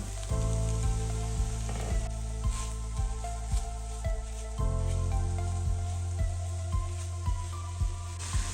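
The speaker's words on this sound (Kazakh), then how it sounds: "1-2 минут сайын жақсы етіп араластырып отырамыз." Meat for a Thai-style dish fries in a pan, a loud continuous sizzle broken by regular scraping clicks as it gets stirred every few seconds, with a low steady hum beneath and no talking.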